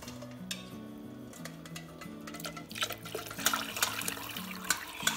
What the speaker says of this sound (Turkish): Eğer biraz koyu olursa tavuk suyundan ya da kettle'ınızdan sıcak su ilave edebilirsiniz.